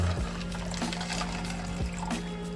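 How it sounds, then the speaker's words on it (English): Water dumped from a packet-ready jug into a drink mixer bottle over protein powder, a steady close pour and trickle with a couple of soft knocks, no talking. "Dump in the water."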